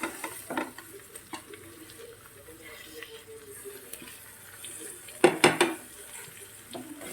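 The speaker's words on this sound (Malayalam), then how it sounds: "ഒന്ന് വഴറ്റി കൊടുത്താൽ" Carrot, potato and green peas being sautéed in a pan: soft, low stirring and scraping with a couple of louder clinks from a spoon against the pan, fairly quiet overall.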